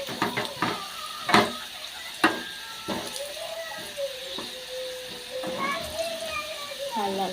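Potatoes frying in a pan at home, a soft continuous sizzle with occasional stirring clinks and scrapes, under a voice talking and children's chatter in the background.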